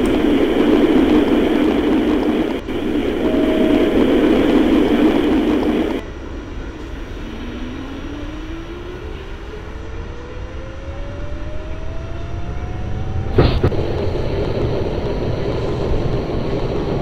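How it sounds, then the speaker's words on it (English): A simulated NYCTA Y line subway train in OpenBVE, a steady rolling hum with a rising motor whine as it accelerates, a brief sharp clunk partway through, and a louder hiss early on. "This is the Y train to Parkchester."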